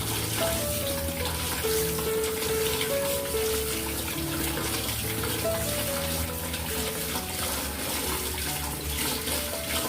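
Shrimp rinsed under a running tap make a steady, close rush of water that runs on without a break for the whole stretch, with light splashing over background music.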